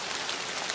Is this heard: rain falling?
yes